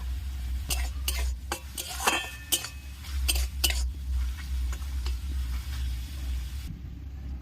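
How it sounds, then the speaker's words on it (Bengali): Crushed garlic and ginger sizzling in a little oil in a wok over a stove, a low steady hiss broken by scattered sharp clinks and scrapes of a utensil against the metal, with no talking. "থেতো করা রসুনটা দিয়ে দিয়েছি, হালকা করে ভেজে নেব"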